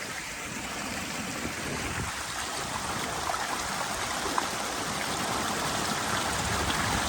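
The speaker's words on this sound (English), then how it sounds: "See how the water comes around into that like divot in the rock and it creates that like jump or like a rapids." A stream runs over rocks into small rapids in a landscaped setting, giving a steady, fairly faint rushing wash that continues without a break and without any voices.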